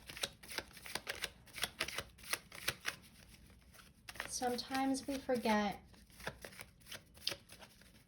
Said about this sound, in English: as I shuffle these cards for you